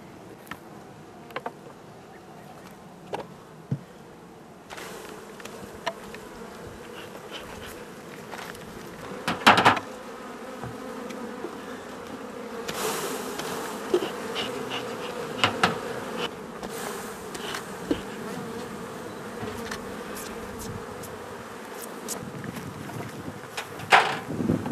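Honeybees buzz steadily around an open hive during a honey harvest in Turkey, a dense close drone with occasional louder passes and handling knocks, alone without talk.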